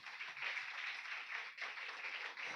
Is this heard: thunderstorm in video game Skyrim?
no